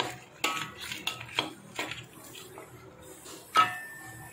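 Spoon scraping and clattering against a pan while sweet and sour crab with pre-boiled vegetables is stirred, a handful of sharp metallic knocks spread over a few seconds, fairly close, with no talk.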